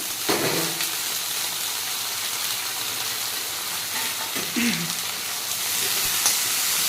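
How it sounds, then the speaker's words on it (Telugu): Bitter gourd pieces and onions fry in a pan with a steady, close hiss and sizzle, broken by a few soft stirring scrapes and clinks. "ఇప్పుడేమో కడిగేసిన కాకరకాయలని వేసుకుంటున్నాను ఈ రెండు కూడా కొంచెం ఫ్రై అయ్యేటట్టుగా వేసుకోవాలి"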